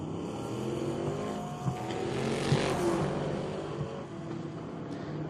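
A Corvette and a Camaro launch side by side at a drag race, engines roaring with layered harmonic tones and a brief surge, heard at a moderate distance with crowd-like ambience.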